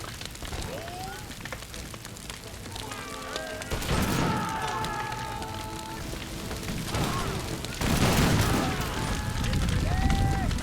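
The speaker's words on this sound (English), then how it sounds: "Alright, out come the grenades." Grenades lobbed and bursting in a video game battle of the American Revolution, with broadband blasts near 4 and 8 seconds over a steady din of distant gunfire and battle noise, while a voice talks throughout.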